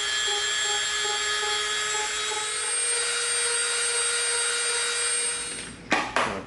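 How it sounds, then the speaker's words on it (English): Dremel rotary tool grinding glue residue off EVA foam, a steady high-pitched motor whine with layered tones that runs for several seconds, then stops, leaving a few short scuffs. "we're going to come in with our Dremel and we're going to take off some of this glue residue"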